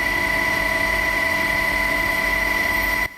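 An Air Force helicopter hovers about 80 feet above a mountain trailhead in Heping, Taichung, during a rescue. Its loud, steady rotor and engine drone runs unbroken, then drops away abruptly at the very end.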